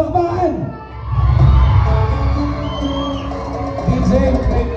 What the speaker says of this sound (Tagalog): malakas na sigawan at palakpakan